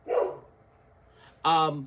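A dog barks at someone at the door indoors, two short loud barks separated by a pause, with a person talking nearby.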